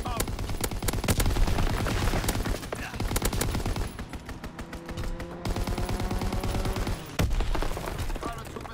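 Strafing-run gunfire in a World War II shooter video game: dense rapid bursts of automatic fire and booms, loud and continuous, with a short lull mid-clip before the firing resumes; game voices and effects run underneath.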